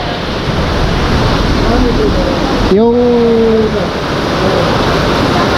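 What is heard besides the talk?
heavy rain and strong wind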